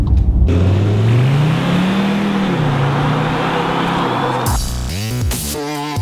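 2019 Skoda Kodiaq vRS with its 2-litre bi-turbo TDI diesel and DSG gearbox pulling hard, engine note rising and holding steady under load, then a series of quick revs and shifts near the end, loud and close.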